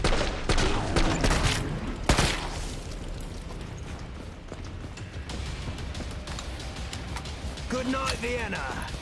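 Rapid gunfire in the video game Killing Floor 2, dense bursts of shots with a sharp bang near the start, mixed with game effects and someone talking over it.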